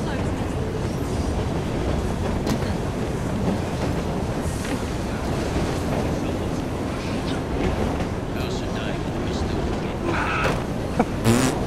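Train in the Assassin's Creed Syndicate video game rolling along, a steady, loud rumble of wheels on rails with occasional clanks and knocks, and brief voices under it.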